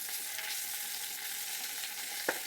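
Onions fry in a pan with turmeric added, a steady dense sizzle running throughout, close and even, with one small clack of a utensil near the end.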